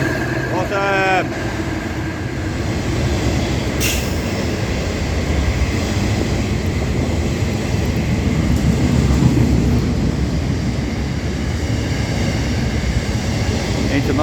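An intermodal freight train rolls past at Morwell in Victoria, Australia, in the rain, giving a loud, continuous rumble of wagons and wheels with a short squeal early on, while someone speaks briefly.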